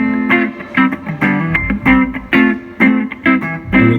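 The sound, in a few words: clean electric guitar tone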